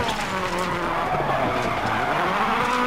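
Rally car in DiRT 4 drifting with a locked differential, steady engine roar under continuous tire skid and squeal, close and loud throughout.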